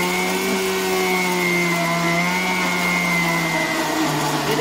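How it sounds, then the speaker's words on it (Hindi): A blender whirs loudly as it mixes peaches, ice, sugar and a little water. The motor holds a steady, close, high-pitched whine throughout, with no voices over it. "अब मैं ब्लेंडर को चला दूंगी।"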